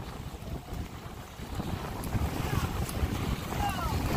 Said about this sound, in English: Oh wow, these are some big waves.